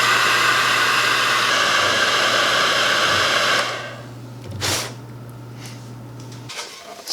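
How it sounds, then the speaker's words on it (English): A heat gun or hair dryer blows a steady, loud rush of air to warm a green rubber boot so it conforms over a bolt head. The whine runs continuously for several seconds and then cuts off, leaving a short, quiet clatter. "I'm going to try to apply some heat to this green rubber boot just to make sure it contours to the bolt head a little bit better."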